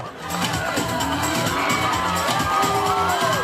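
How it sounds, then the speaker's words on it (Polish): Cheering crowd with children shouting and whooping at a Polish sports and fitness event, loud and continuous, with some scattered bangs and clapping mixed into the din. "Brawa!"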